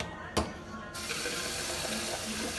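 Lukewarm water runs from a tap into a sink in a bathroom in Cuba, a steady close hiss of flow starting after a brief knock and continuing evenly to the end.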